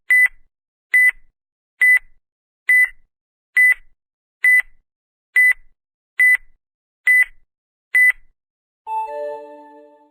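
A countdown timer for a riddle beeps ten times at a steady one-second pace, each beep short, bright and identical, then a brief different chime closes the sequence; nothing else is heard.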